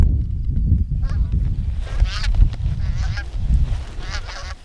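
Geese honk repeatedly, a chorus of nasal calls overlapping at moderate distance over a low rumbling background.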